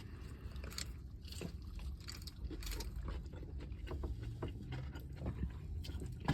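Close crunchy chewing and biting on crispy fried chicken from Dave's Hot Chicken, continuous wet crunches and smacks with no talk.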